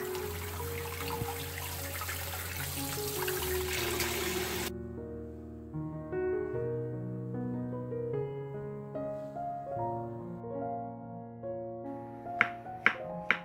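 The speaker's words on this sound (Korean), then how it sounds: "흐르는 물에 머리를 먼저 씻고 뒤집어서 재빠르게 씻어" Shiitake mushrooms rinsed under a running kitchen tap, giving a steady, close rush of water for about five seconds that stops abruptly as music takes over.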